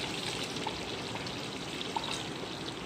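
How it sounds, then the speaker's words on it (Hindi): Milk pours steadily into a pot of chicken qorma, a continuous close liquid splashing and trickling with no talk. "इसी के साथ मैं इसके अंदर ऐड करूँगी 1 कप के करीब दूध।"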